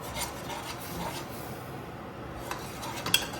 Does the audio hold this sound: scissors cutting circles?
no